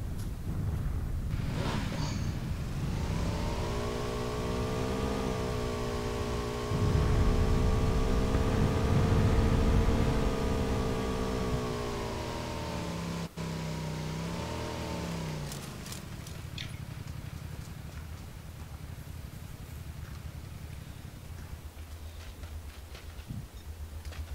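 A car engine in the video game PUBG drones steadily with harmonic revving that rises and dips, growing louder midway and then fading into quieter ambient game sound.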